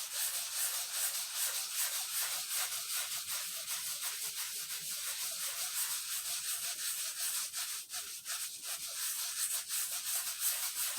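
Steady, close rubbing of a cut-up t-shirt rag buffing a sealed canvas square in circular motions, a continuous soft hiss with faint rhythmic swells and no talking.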